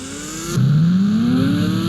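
A motorbike in the Indian Bike Driving 3D video game takes off: a loud, steady engine drone shifts down, then rises smoothly in pitch as it accelerates over the next second or so.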